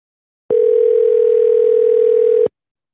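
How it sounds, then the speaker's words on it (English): A steady electronic telephone tone holds for about two seconds, then cuts off, with silence before and after. "in a minute you should hear the thing ringing"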